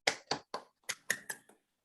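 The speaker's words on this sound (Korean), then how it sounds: "오늘 귀한 발표해 주신 우리 송영훈 교수님께 감사의 박수 한번 드리겠습니다." A handful of distinct hand claps at a monthly theology forum, about seven separate claps in quick, uneven succession, fairly quiet and isolated rather than a full crowd.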